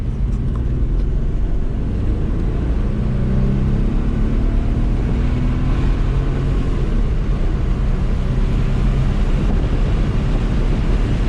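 An Audi B5 S4 engine drones loud and steady under acceleration while misfiring and breaking up, buried in heavy low rumble and wind roar with no talking.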